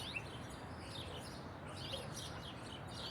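Small birds chirp and tweet in scattered bursts over a steady background hiss, moderately distant and faint, with no one talking.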